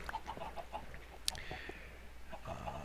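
Chickens penned in a Minecraft chicken farm cluck in short, scattered blips throughout, with one sharp click midway and a low hum of game sounds underneath, no talking.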